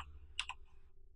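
A single quiet computer mouse click, a short double tick in an otherwise silent room with faint low background hum.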